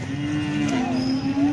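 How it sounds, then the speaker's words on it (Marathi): A sustained, loud moo rings out close by at a livestock sale, where cows and bulls, including Khillari bulls, are gathered for sale. It runs steadily through the whole moment with no talk. "या गायी आहेत, बैल आहेत"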